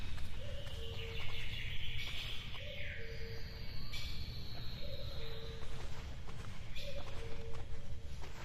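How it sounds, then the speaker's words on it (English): Birdsong chirps over a steady low hum of forest ambience in a video game, the bird calls repeating at intervals and sitting fairly faint above the constant background. "I like the birds chirping in the forest and that kind of stuff"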